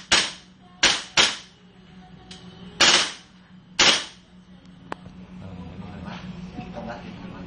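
A GNP gas blowback airsoft gun fires five sharp, loud reports at close range, two quick pairs and a single, each with a brief decaying crack, followed by quieter handling noise.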